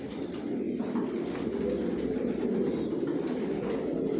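Racing pigeon squabs in a loft coo in a low, continuous rumbling murmur, close and steady, with no talk over it.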